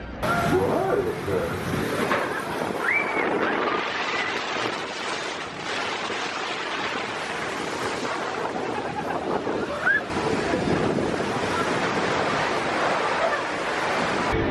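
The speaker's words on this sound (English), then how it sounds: "The only water ride on the list, Splash Mountain." Splash Mountain log flume at Walt Disney World, rushing water and churning splashes under wind buffeting, a steady loud wash with a couple of faint distant shrieks.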